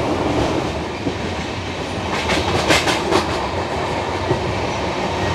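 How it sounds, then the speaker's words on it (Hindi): A Rajdhani train slowly gathers speed on the track, a loud steady rumble of carriages with rhythmic clickety-clack wheel beats and brief metallic squeal, heard from on board without talk. "यहाँ पर हमारी ट्रेन धीरे धीरे रफ्तार पकड़ रही है"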